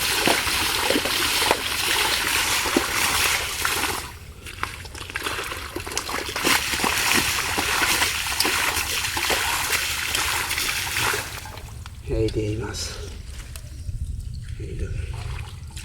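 Water splashes and trickles continuously as a village pond is pumped out for fishing, with sloshing bursts and a steady rushing flow, loud and close, shifting in texture near the end.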